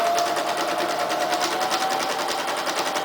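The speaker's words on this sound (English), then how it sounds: "So I just put my presser foot at the very edge of the material and I start sewing." Sewing machine stitching around a puppet-style oven mitt padded with batting, a rapid, even mechanical chatter running steadily for a few seconds.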